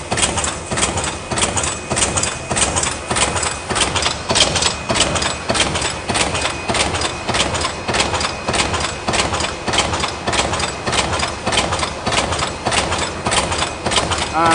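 An automatic paper cup lid making machine punches cut holes and air holes in a fast, steady mechanical rhythm. Loud, close, continuous pulsing runs with a constant motor drone underneath.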